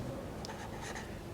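Chalk or pen writing out a chemistry reaction during a lesson, heard as a few faint, brief scratchy strokes over a steady low room hum.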